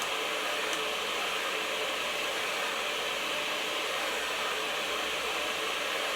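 A hair dryer blow-drying short hair for full volume roars steadily and loudly at close range, a continuous broadband whoosh with no pauses.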